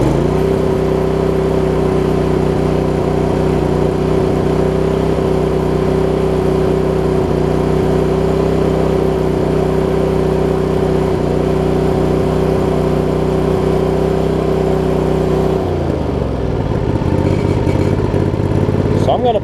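A John Deere LX279 riding mower engine, said to run slightly rich, idles loud and close with a steady droning hum that holds evenly, then shifts and roughens near the end.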